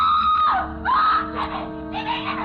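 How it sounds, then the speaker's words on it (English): A woman in an old-time radio suspense drama screams at length, a shrill wavering cry that breaks into sobbing wails, loud and close with no other sound around it. "And suddenly she was screaming."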